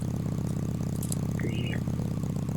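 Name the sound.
boat motor engine in the video game Fisch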